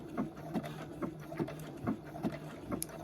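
Sewing machine stitching a zigzag reinforcement on an elastic waistband of kid's shorts, a quiet rhythmic series of soft needle thumps, roughly two per second, close and fairly faint.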